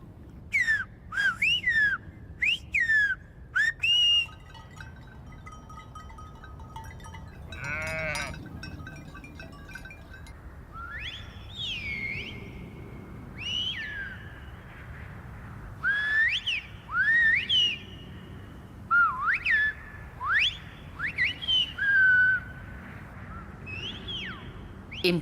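Shepherds trade silbo herreño whistled-language messages across open country, sharp gliding whistles in bursts and phrases answering one another, with sheep bleating in between and a low wind-like rumble underneath.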